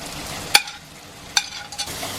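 Boiled potatoes are tossed with chilli powder, turmeric and dry mango powder in a hot pan for samosa filling: a faint background sizzle broken by two sharp metallic clinks of a spoon against the pan.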